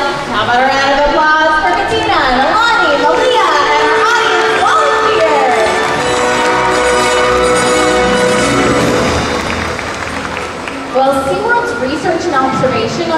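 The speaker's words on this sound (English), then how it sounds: "How about a round of applause?" Audience at a SeaWorld orca show erupts in loud sustained cheering, whoops and shouting from a large crowd, with children's voices and an announcer's amplified voice mixed in before the noise eases then swells again.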